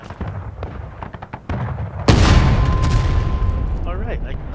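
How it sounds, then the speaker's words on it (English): A Civil War cannon fired by lanyard in the War of Rights game booms out loud and close, its single blast rolling into a long, fading rumble after quieter clatter and background game noise. "just pull back again until you're far away from the cannon so it doesn't hit you"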